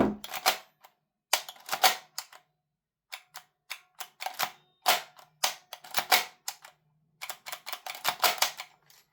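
A Maruyama MP9 gas blowback airsoft gun being racked by hand, a string of sharp metallic clacks and clicks in irregular clusters, close and fairly quiet with silent gaps between.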